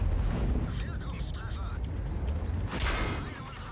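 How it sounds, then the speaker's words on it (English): Tank guns firing APCR shells in World of Tanks, heavy booming artillery-like blasts over a constant loud rumble of engines and battle noise, with one sharp close shot near the end and someone talking over it. "He's shooting standard APCR at me, but he's still bouncing"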